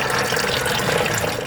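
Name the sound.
coolant draining out as the car radiator is removed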